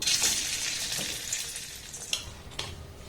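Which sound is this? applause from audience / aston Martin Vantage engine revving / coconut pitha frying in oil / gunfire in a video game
coconut pitha frying in oil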